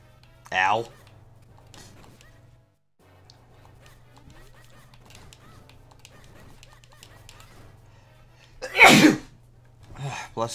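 Two loud, close sneezes, one near the start and a bigger one near the end, break up a quiet stretch under a steady low hum during a Zelda gaming session, with a short voice at the close.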